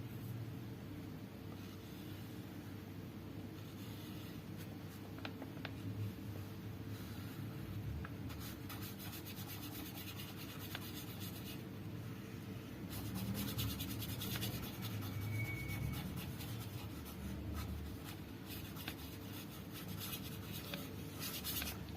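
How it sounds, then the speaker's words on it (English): A black marker draws a square, producing a steady, continuous scratchy rubbing of the tip across the surface, close and fairly quiet, with no voices. "First we use black color and now we draw the shape of square."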